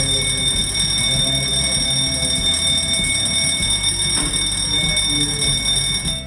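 A building fire alarm sounds continuously during a fire evacuation drill in a high-rise, a loud, steady electronic tone with layered high pitches that does not let up, with no speech.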